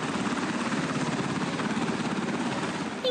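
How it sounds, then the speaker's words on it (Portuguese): An American military helicopter coming in to land, its rotor beating in a steady, loud, continuous chop with engine whine throughout, no voices heard. "Quando o helicóptero americano pousa"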